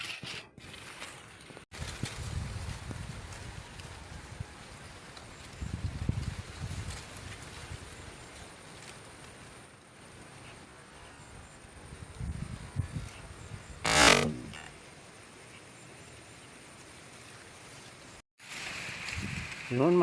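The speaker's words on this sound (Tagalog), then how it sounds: "Ang lakas ng hangin" Gusty wind buffets the microphone in low rumbling bursts outdoors in a cornfield, with occasional rustling and knocks.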